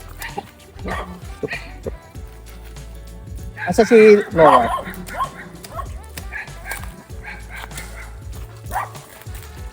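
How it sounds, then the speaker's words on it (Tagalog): A dog barks in short yips on a calamansi farm, a few loud close barks clustered near the middle with people talking throughout. "Nakakawala pala dito ng aso nila."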